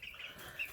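Backyard chickens at a home where a dog is being introduced to them give a few soft, quick clucks, faint and brief, with no voices.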